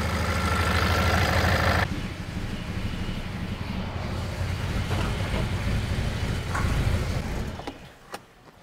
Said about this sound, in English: this car has muffler delete and you can hear it. It's a bit louder than usual.